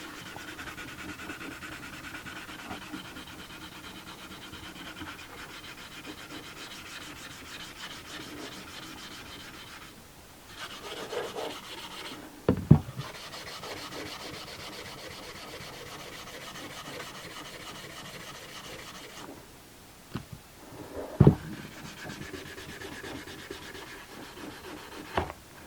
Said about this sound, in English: I'm going to give it a light sand